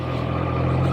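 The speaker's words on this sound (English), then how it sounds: "we are going to take that hot rod, Triumph Trident 660, out for a blast of a ride." A Triumph Trident 660 motorcycle engine hums steadily and close up in a very short burst, a loud, even drone.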